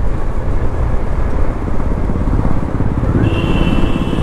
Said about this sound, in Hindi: ये देखो कैसे भगा रहे हैं बाइक को, जबकि उस बाइक में कोई ABS वगैरह भी नहीं है, फिर भी पूरा थ्रोटल खोला हुआ इन्होंने